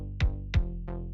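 Dry synthwave kick drum and synth bass with no saturation, two sharp kick thumps in quick succession and then a softer third hit over a low sustained bass tone, brief and close.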